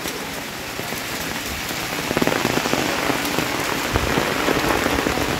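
Rain pours over the Bakreshwar temple complex in Birbhum, a dense, even hiss of drops on hard surfaces that grows slightly heavier partway through. No voices are heard.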